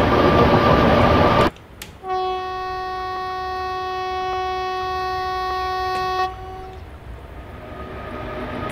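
WAG 7 locomotive hauling ICF coaches through hilly country in a train simulator game: a sudden cut from loud running noise into a long, sustained multi-tone horn blast lasting several seconds, then a return to lower rolling noise.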